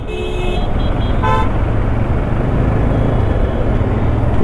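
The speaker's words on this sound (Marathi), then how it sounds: "हे हॉर्न वाजवणारे इतके डोक्यात जातात ना" Car horns honk in heavy Mumbai road traffic near an accident: a longer horn blast and then a short one sound early, close and loud over a steady engine and road roar.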